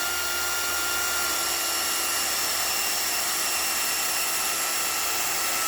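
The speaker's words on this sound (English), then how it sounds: "I'm going to sit there and put a rosette weld in there." A rosette weld goes onto rust repair patches on a 1983 square body truck, giving a loud, continuous broadband hiss and buzz that stays steady and unbroken throughout, with no talking.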